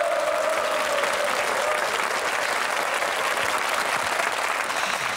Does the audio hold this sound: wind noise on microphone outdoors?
no